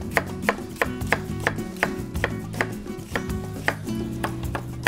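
A knife chopping onions on a board during shrimp linguine prep, with a steady run of sharp, close taps of fairly even rhythm and brief pauses between strokes.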